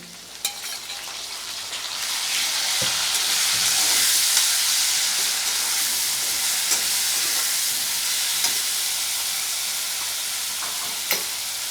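Onion and garlic paste frying with already-fried potatoes in a pan makes a strong, continuous sizzle, with occasional clicks of a spoon stirring, close and loud with no talking.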